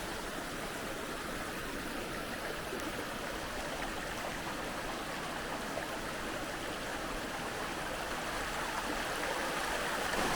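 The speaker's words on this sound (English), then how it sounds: "Right, we've made it to the waterfall, and it's called Bleabeck Force." Bleabeck Force, a waterfall in the North Pennines, roars as a steady, dense rush of falling water heard close up, broadband and unbroken for the whole stretch with no voices.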